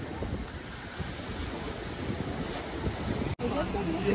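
Wind buffets the microphone over a steady wash of ocean surf at Busselton Jetty, forming a continuous loud roar with a brief dropout near the end.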